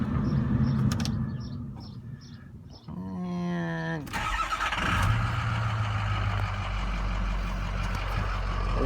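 A pickup truck with a completely rebuilt motor cranks with a short whirring starter, then its engine catches and settles into a steady rumbling idle close by, with a few mechanical clicks beforehand.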